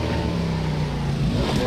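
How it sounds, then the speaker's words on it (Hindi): A motorbike engine in a battle royale video game drones steadily with a low, buzzing pitch that rises slightly as it nears, continuous and fairly loud throughout. "एक और बाइक आ रही है"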